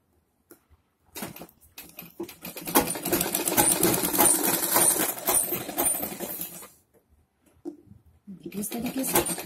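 A sewing machine stitches fabric for a padded blouse in a loud, close, continuous run of rapid needle clatter lasting several seconds, then stops and resumes in a shorter burst after a pause.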